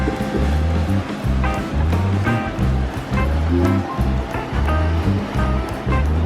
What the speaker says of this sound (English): It's the sea, Michael!